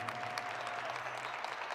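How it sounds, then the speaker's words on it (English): An audience gives a steady round of applause at a county presentation, a continuous even wash of clapping that stays moderately quiet throughout. "Let's give him a round of applause."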